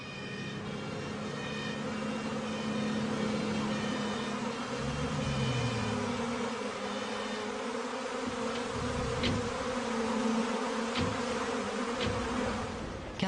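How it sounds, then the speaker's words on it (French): A swarm of disoriented honeybees drones in a dense, continuous buzz, loud and close, steady for the whole stretch with a few faint clicks over the top. "Car ce sont bien les abeilles"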